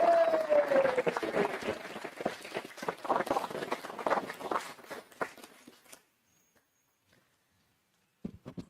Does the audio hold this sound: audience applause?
yes